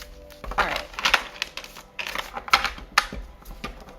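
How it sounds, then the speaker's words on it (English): A deck of reading cards is shuffled by hand in a series of crisp riffling bursts and papery slaps, close and fairly loud, with short pauses between them. "Let me just get one more shuffle here. This deck is still needing to be broken."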